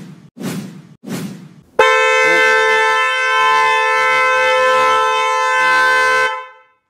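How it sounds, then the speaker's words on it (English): Vehicle horn triggered remotely through an Otis diagnostic tool, a loud steady blare lasting about four and a half seconds after two short thumps, close by, with no talk. "That's the horn going there."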